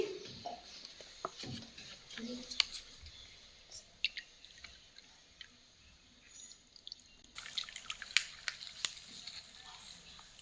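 Water dripping through a homemade charcoal-and-cotton filter in a children's science experiment: faint, sparse, irregular drips and small wet ticks over a quiet room, with soft murmuring in the background.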